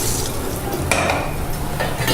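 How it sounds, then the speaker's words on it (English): Garlic sizzles steadily in a hot pan while being stirred and tossed, with a brief metallic scrape of a utensil against the pan partway through. "we're just going to add our garlic in. Let that tick away"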